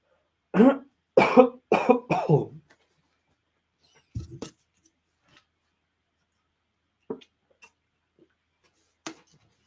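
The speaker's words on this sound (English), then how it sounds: "let me clear my throat really quick" A person clears their throat a few times in quick, rough bursts, followed by faint scattered clicks and small noises in a quiet room.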